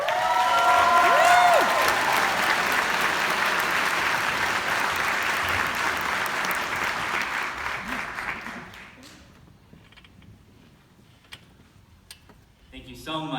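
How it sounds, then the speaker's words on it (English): A large crowd at a university chemistry and biochemistry graduation ceremony applauds loudly, with a brief whoop of cheering early on, then the clapping fades to scattered claps and quiet room noise. "Please give a round of applause for 2019's undergraduate valedictorian, Patrick Chen."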